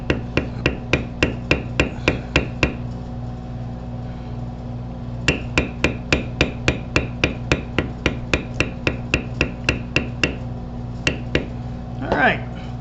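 Steady, sharp hammer taps on a beveler tool tooling a flower into leather, close and evenly spaced in two runs separated by a brief pause, followed by a short scrape.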